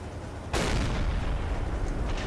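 Submarine deck gun in Silent Hunter 3 firing at an enemy ship, one sudden loud boom that rumbles on and decays over about two seconds, with no speech.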